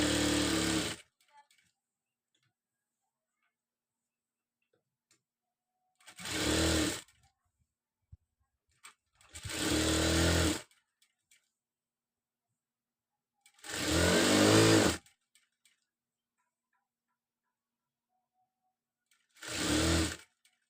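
A sewing machine stitches fabric in five separate loud bursts of a few seconds each, with silent pauses between them, while a nighty is being fitted and sewn over a marked line.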